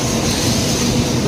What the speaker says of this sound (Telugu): ఈ స్టేషన్ నిండా బుల్లెట్ ట్రైన్స్ వస్తున్నాయి వెళ్తున్నాయి.